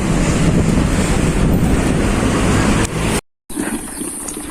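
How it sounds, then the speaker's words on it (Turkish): Strong wind in rain near Silifke, Turkey, roars and buffets the microphone almost continuously, with surf-like rushing beneath; it cuts out briefly near the end, then resumes a little softer. "Rüzgar aşırı kuvvetli."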